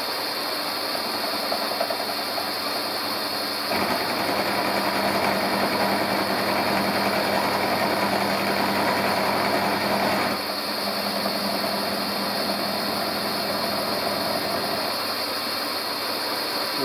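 A milling cutter takes a light pass on a metal workpiece, a steady moderate machine hum with a rougher, brighter cutting texture swelling in the middle section before settling back to the running drone.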